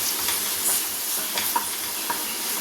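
Chicken cutlet filling sautéing in a pan, a dense, even sizzle close up with occasional light stirring taps breaking through.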